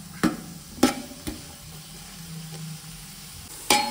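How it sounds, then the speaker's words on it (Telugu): Something fries in a pan, cooking until golden for mutton mandi, with a low steady sizzle broken by a few sharp utensil clinks and knocks close by. "గోల్డెన్ రెడ్గా వచ్చేంత వరకు ఫ్రై చేసుకోవాలన్నమాట."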